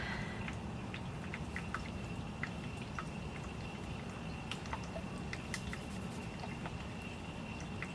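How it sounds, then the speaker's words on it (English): Water flows and drips in a quiet outdoor setting, with scattered light drips and patters over a soft, continuous wash of flowing water, faint and steady throughout. "I want us to just sit and listen to the water"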